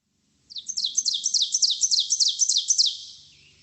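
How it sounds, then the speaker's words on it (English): A single bird sings a clear, ringing two-note 'teacher' phrase repeated rapidly in a steady series, bright and close against a silent background. "The bird has a very ringing teacher sound that's familiar, probably."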